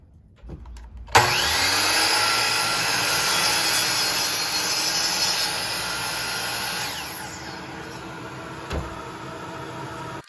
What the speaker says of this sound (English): And let's not forget to switch the vacuum over.